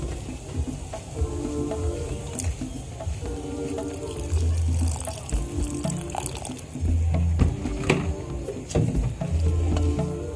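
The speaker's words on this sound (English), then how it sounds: "I will just add a little water." Water poured into a cooking pot of traditional African greens and silver fish, a steady trickling and splashing pour with shifting tone, heard alongside background sounds and some low voices.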